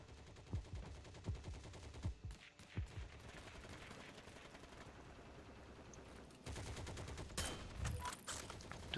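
Gunshots in a sniper video game ring out in a fast, irregular volley of cracks, first several spaced shots, then a sustained rattling burst near the end, close and fairly loud.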